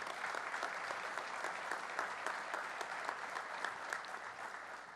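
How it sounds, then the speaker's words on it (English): Applause from an audience at a public event with the New York governor in Buffalo, a steady, dense patter of many hands clapping for the whole stretch at moderate, fairly distant level with no talking. "give Kenneth, Juliana, Margaret, and Edward a round of applause."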